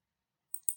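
A computer mouse gives a left click: two quick, crisp, quiet clicks close together, heard alone after a short silence.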